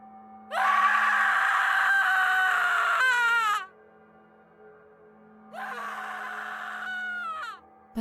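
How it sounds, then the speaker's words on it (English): Animated sound effect of a woman screaming in pain, coming in two long, loud, wailing bursts with a short silence between them, the second slightly quieter and trailing off. "I heard a woman screaming in pain."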